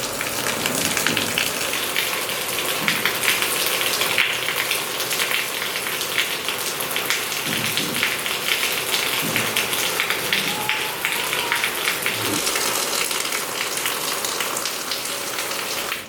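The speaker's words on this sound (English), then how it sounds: "And then just like that, the rains fell." A sudden heavy downpour on Siargao Island in the Philippines drums hard on nearby surfaces, a dense, constant hiss with scattered louder drops and spatters and no voices.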